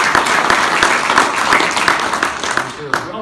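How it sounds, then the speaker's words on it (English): An audience at a cyber security training event claps together, a brief burst of loud, dense applause that runs evenly for a few seconds and then starts to fade. "Let's give them a round of applause."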